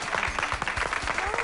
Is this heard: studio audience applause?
yes